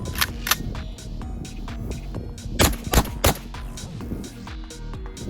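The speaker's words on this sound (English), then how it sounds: "I'm going to shoot 3 rounds, then attach the suppressor, shoot another 3 rounds" A shotgun fired three times without a suppressor, the loud sharp reports coming close together near the middle, with fainter broadband noise and other sharp transients around them.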